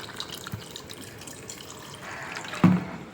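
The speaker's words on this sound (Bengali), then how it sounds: "দেখলে কতটা জল দিলাম আমি এখানে" Water is poured into a bowl of chicken and spice mix, a brief close-up splash near the end following a few soft drips and faint kitchen background.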